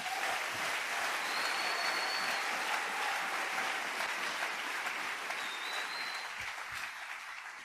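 A church congregation claps together in a sustained burst of applause, dense and even throughout, with a few faint voices and whoops rising above the clapping.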